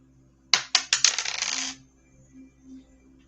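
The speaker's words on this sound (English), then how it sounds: "and I will roll my dice" Dice rolled onto a hard surface: a few quick clattering bounces settling into a short rattle that stops within about a second, then quiet.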